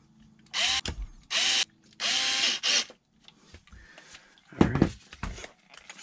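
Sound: power drill driving screws on an RC car bottom

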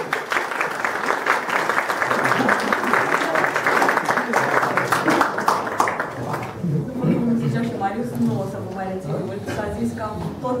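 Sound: audience applause

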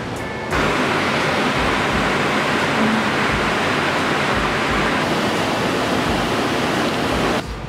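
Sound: river flowing beside a national park

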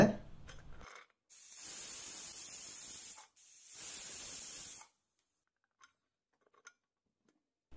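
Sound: pressure cooker releasing steam

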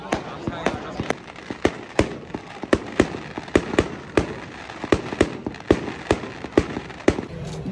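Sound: fireworks being set off at Valborg celebration

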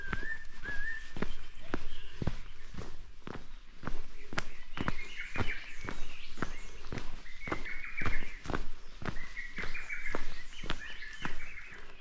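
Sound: birdsong chorus on dawn mountain hike

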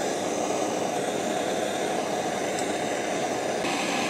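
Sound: propane torch heating a fuel reservoir

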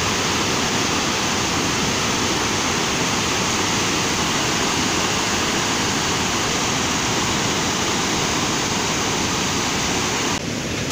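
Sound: water released through two gates of Musi dam

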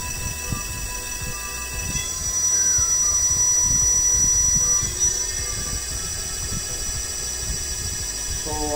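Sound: 12 inch 1200W electric hub motor running up to cutoff

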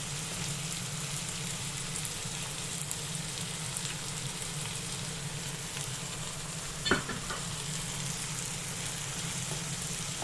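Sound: onion and garlic frying in a pan

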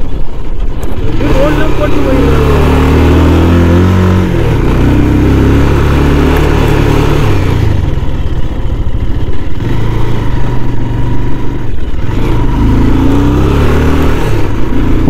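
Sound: vehicle engine straining while climbing uphill

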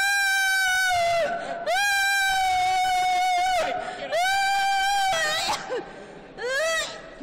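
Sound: person screaming during a church exorcism

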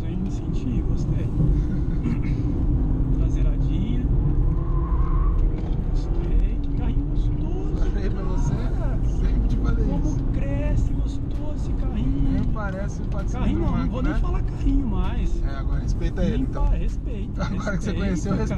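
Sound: BMW M125i accelerating while driving

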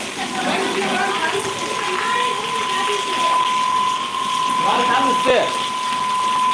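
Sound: heavy downpour of rain

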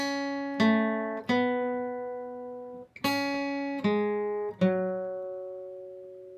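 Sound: guitar playing song notes

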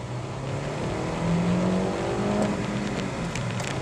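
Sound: 2011 Honda Civic LXL manual accelerating

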